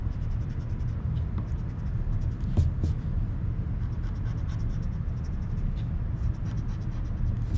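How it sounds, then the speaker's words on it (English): A pencil drawn along a ruler across paper makes a steady, close scratching that runs almost without a break, with a few sharper strokes, and no one speaks. "I could just reach over here and draw a line there"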